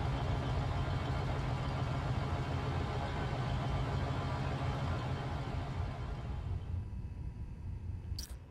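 Steady, loud low engine hum at a station in the Spider-Man Miles Morales video game, droning continuously and fading slightly toward the end.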